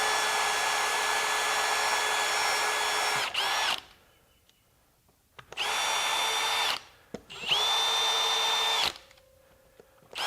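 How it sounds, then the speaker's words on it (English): A power drill whines in three long bursts, close and loud, with short pauses between, the pitch dipping briefly as each burst starts. "And let's drill another hole."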